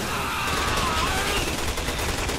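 Gunfire in the video game Resident Evil 6, rapid overlapping shots forming a loud, continuous burst of firing with no clear gaps between reports.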